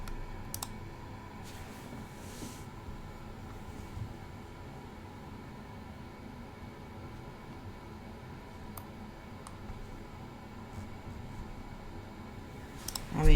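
Sparse, faint keyboard clicks from a computer keyboard while coding CSS, a few isolated taps spread out over a steady background hiss, with no voices.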